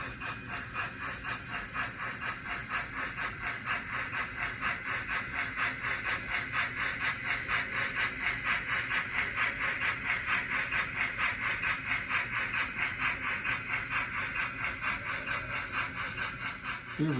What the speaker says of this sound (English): And here's a train of the empties pulling out right now.